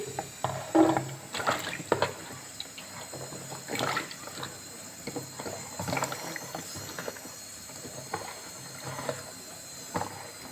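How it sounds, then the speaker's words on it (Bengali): Potatoes and bottle gourd stalks washed by hand under running water in a kitchen, with close, intermittent splashes and sloshing bursts over a soft continuous trickle. "সবজিটা ভালো করে ধুয়ে নিচ্ছি"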